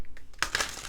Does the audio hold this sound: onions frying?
no